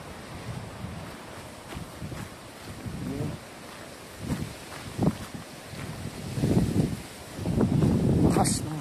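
Gusty wind on a rocky hiking trail in Macau buffets the microphone in uneven surges, rumbling louder toward the end, with no voices.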